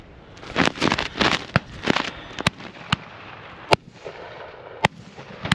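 A black powder muzzle-loading shotgun shot on a partridge shoot: a burst of loud cracking reports, then sharp separate pops echoing at intervals, close and loud with no talk.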